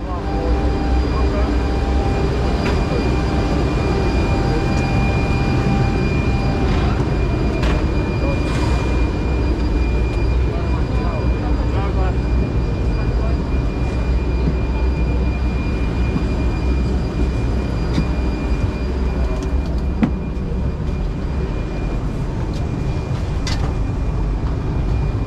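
Inside a České dráhy SuperCity Pendolino on the run toward Slovakia, a loud, steady rumble of the moving train fills the cabin throughout, with faint clicks and rattles over the constant hum.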